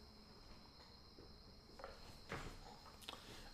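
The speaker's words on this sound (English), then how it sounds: "Because you're hearing the crickets." Crickets chirp in a faint, steady, high-pitched drone at night, with a few soft rustles or footsteps underneath and no voices.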